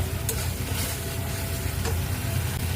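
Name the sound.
masala spices sizzling as they are fried in a pan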